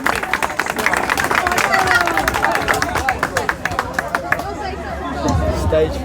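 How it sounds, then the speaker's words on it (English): A crowd at an outdoor anti-migrant protest in Diss, Norfolk, claps and cheers, scattered outdoor clapping mixed with loud chatter and voices that fade toward the end. "Give this girl a round of applause"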